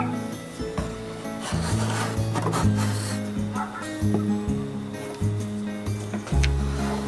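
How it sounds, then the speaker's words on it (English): A scraping tool is pushed hard across wood to strip off chemically softened veneer, producing repeated rough rasping strokes with a low grinding drone, close and loud. "just take your scraping tool and just scrape it off with some pressure"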